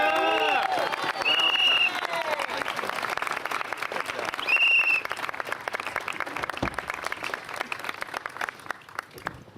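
An audience claps steadily at an outdoor press conference with the New York City mayor, sustained applause with a couple of brief whistle-like tones early on, slowly thinning toward the end.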